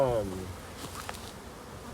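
A steady, low drone of many honey bees buzzing close by at a queenless hive, with a voice speaking briefly at the start and end.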